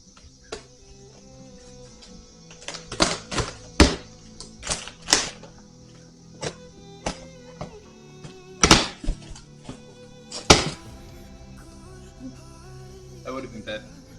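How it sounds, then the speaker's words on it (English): A knife slices open a cardboard box holding a headlight replacement for a 1991 Ford F350, with a run of sharp, close clicks and thumps as the packaging is cut and handled. "let's go ahead and let's get this box opened up, why don't we?"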